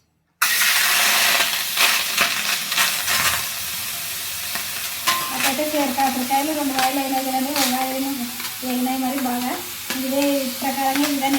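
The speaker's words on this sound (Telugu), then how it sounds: "కాకరకాయలు అయితే అన్నీ బాగా ఫ్రై ఫ్రై అయినాయి కదండి" Small bitter gourds fry in a pan with a steady sizzle. Spoon stirs and scrapes come in bursts early on, and a droning hum rises in the second half.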